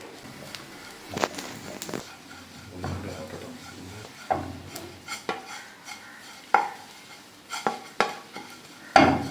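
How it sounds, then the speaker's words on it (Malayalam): Grated coconut dry-roasts in a pan with no oil, heard as intermittent scraping and clinking strokes of a spatula stirring against the metal over a faint background. "ഇങ്ങനെ തന്നെ തേങ്ങ ഇട്ടിട്ട് വറുത്തെടുത്താൽ മതി"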